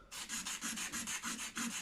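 A blade lightly scraping a layer of dirt off the fretboard of a vintage Japanese Commodore guitar during a refret, heard as close, steady rasping strokes in an even rhythm of about six to eight passes, with no talking.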